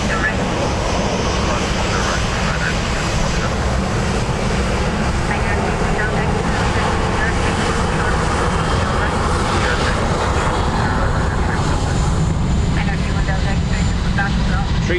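An Airbus A321neo jet departs Dublin Airport for Cleveland, its engines a loud, sustained roar that fills the whole stretch, with voices faintly present alongside.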